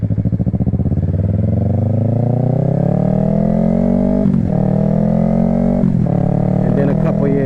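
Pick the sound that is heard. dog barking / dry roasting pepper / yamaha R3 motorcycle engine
yamaha R3 motorcycle engine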